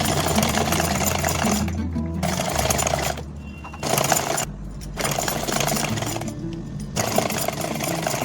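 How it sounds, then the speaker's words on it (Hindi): Sewing machine stitching along a folded fabric strip, a loud, close, rapid mechanical whirring run in several bursts separated by short pauses. "पूरी में सिलाई मशीन हम लोग चला लेते हैं"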